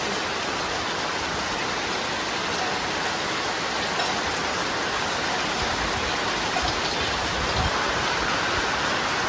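Heavy rain falls steadily at the seaside, a dense, even roar of water that stays loud and unbroken throughout, with no voices over it.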